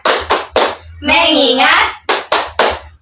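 Schoolchildren in an Indonesian classroom clap hands in a rhythmic chant, several sharp group claps in quick bursts around a sung line of children's voices, loud and close.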